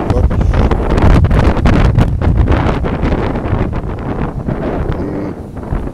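Strong wind gusts outdoors, buffeting and roaring with a loud broadband rush that swells and eases unevenly throughout, with no speech.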